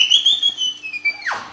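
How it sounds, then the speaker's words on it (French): A high-pitched whistle plays a sustained, slightly wavering tone for over a second, then slides sharply downward at the end, heard up close and alone within a small handmade wind-instrument setup. "le sifflet"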